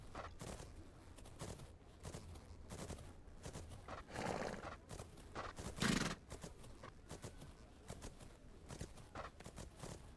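Hoofbeats and a horse's whinny from a pinto horse in a horse-riding video game, with a louder burst near the middle over a continuous bed of game sound.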